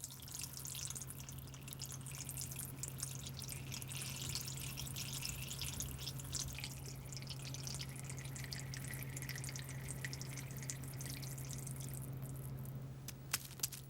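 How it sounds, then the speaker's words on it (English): Water drips and trickles off a surface coated with self-cleaning Lotusan paint, faint, soft wet patters spread across a steady low hum, with no voices. "But dirt and water just roll off this new paint,"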